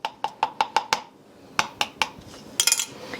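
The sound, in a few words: stirring minced garlic in oil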